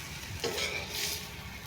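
Shrimp fry briefly in a pan, a faint continuous sizzle with a couple of light utensil scrapes and clinks partway through, no talking.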